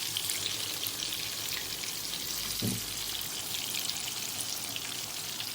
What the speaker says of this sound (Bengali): এখানে বেগুন ভাজি করা হচ্ছে, বেগুনের বড়া